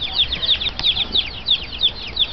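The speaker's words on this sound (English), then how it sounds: "Oh, little baby chickens in the Philippines." Baby chicks in the Philippines cheep in a rapid, continuous run of high, short peeps, several birds at close range with no talk over them.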